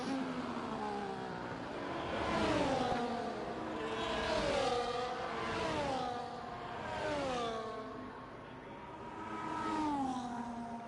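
Race cars from a racing video game at Yas Marina in Abu Dhabi whine through rising and falling engine revs, several cars overlapping in smooth swells of acceleration and gear changes.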